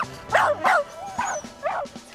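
A dog gives short yips and high whimpers, four close cries in about two seconds with a thin whine between them, indoors and nearly alone.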